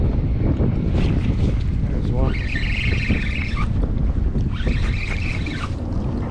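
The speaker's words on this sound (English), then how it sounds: "that wind really picked up, man." Strong wind buffeting a fishing boat on the Detroit River, a loud constant roar of wind noise across the whole clip with a faint whine rising twice in the middle.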